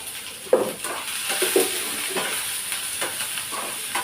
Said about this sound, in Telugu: ఇది మనం కొంచెం మెత్తబడేంత వరకు వేయించుకోవాలి